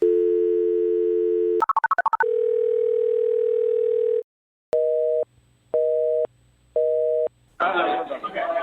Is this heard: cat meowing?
no